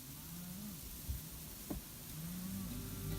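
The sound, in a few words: cattle calves mooing at feeding time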